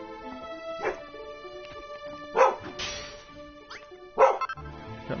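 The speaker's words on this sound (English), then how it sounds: "Sorry, my dog's barking." A real dog barks nearby three separate times, each bark short and sharp, heard over quiet video game music from Dragon Quest Builders.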